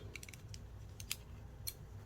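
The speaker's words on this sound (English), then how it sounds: "So let me get my scissors." Scissors snip several times in quick, uneven bursts, crisp and close but quiet, with short pauses between cuts and no talking.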